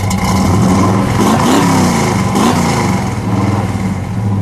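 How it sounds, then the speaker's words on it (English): A 1970 AMC Rebel The Machine's 390 V8 engine revs up sharply twice, pitch climbing and falling, over a steady close rumble. "give it a rev"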